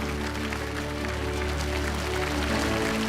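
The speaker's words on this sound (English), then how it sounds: "please give a warm round of applause to the beautiful Jane" An audience at a Travel On global travel recovery campaign launch ceremony applauds in a steady, continuous wash of clapping, loud and even for the whole stretch, with no voices over it.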